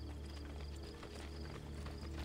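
Horse hooves clop at a steady trot in the video game Assassin's Creed 2, quiet and rhythmic over a constant low game soundtrack hum.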